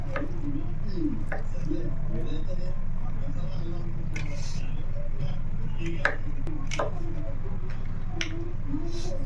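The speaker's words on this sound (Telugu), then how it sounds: "కొంచెం పెద్దగా కోసుకుంటున్నాను" A knife cuts taro roots into large pieces, producing scattered crisp chops and squishy cuts, close up, beneath a person talking steadily throughout.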